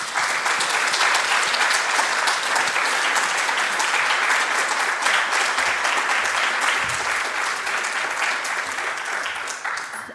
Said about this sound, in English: So, grand applause to Susan.